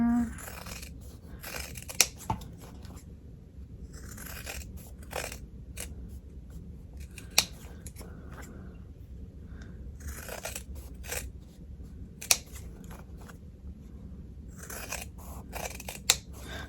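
Scissors snip through fabric in a few sharp, separate cuts spread over a quiet, steady background, with no talking.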